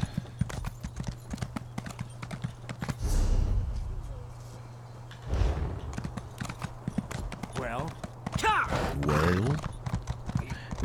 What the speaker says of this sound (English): now I can jump on my horse and get to this location